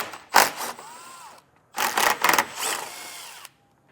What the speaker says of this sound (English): Underneath of our middle fascia, we're going to go ahead and take out 5 10-millimeter bolts.